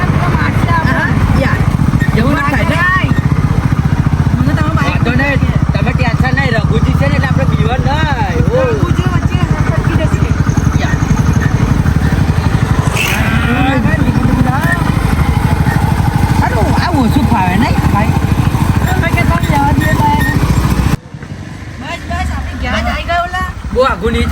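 A motorcycle engine drones loudly and continuously while people talk over it, cutting out abruptly near the end.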